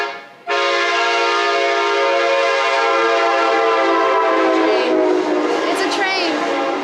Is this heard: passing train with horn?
yes